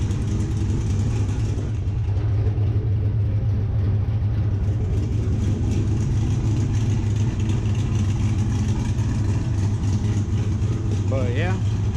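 A truck with a TSP stage 4 cam idles steadily, its loose exhaust giving a constant low rumbling rattle that runs unbroken at moderate level, with a short voice near the end.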